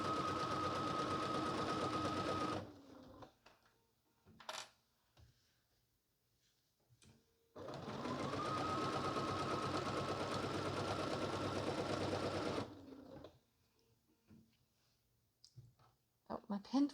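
A domestic sewing machine stitches quilt binding in two sustained runs of rapid mechanical clicking and whirring, close and steady, separated by quieter pauses with small handling sounds; the machine is reportedly acting up a little.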